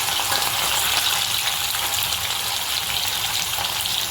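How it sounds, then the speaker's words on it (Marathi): Paneer frying in hot oil in a home kitchen, a loud, continuous, dense sizzle with no pauses, close up and without talk. "तेल गरम झालेलं आहे, तेलामध्ये ना पनीर टाकायचं आणि हलकं फ्राय करून घ्यायचं।"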